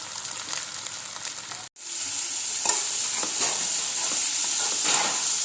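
Steady, bright sizzling of pointed gourd frying in hot oil, interrupted by one brief cutout, then a continuous crackling hiss with occasional pops.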